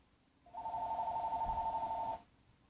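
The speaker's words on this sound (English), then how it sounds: "Got a phone call, people." A single electronic telephone ring, a steady warbling tone lasting under two seconds, clear and fairly close in a quiet kitchen.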